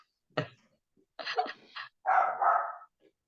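A dog barks a few times close by, a short sharp bark followed by a longer run of yelping, whining barks, with quiet gaps between.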